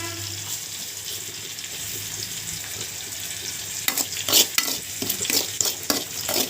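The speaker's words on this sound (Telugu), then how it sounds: "ఒక కప్పు ఉప్మా రవ్వని మనము లైట్ గోల్డెన్ కలర్ వచ్చే వరకు వేయించుకొని" Upma semolina is stirred as it roasts in a pan, giving a steady dry hiss, and a run of louder scraping spatula strokes comes in toward the end, close up with no voices.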